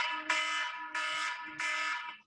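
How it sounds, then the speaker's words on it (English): A phone alarm reminder goes off with three loud, even electronic tones, each lasting about half a second with short gaps between them, close by and alone, ending abruptly. "Sorry, that's my alarm."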